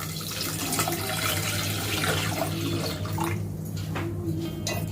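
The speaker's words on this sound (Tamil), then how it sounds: "ஒரு சொம்பு அளவுக்கு தண்ணி சேர்த்துக்கலாம்." Water pours into a cooking pot set up for boiling beetroot, a steady, close splashing fill that runs throughout with faint hum beneath.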